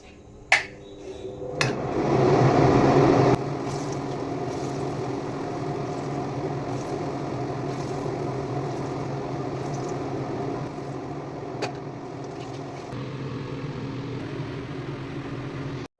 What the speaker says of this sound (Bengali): এখন আমি চিমনি চালাবো